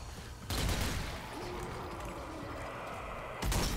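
Gunfire in the zombie shooter game Zombie Army 4: Dead War comes as two loud, sharp blasts at the start and end, with a rumbling noisy wash between them.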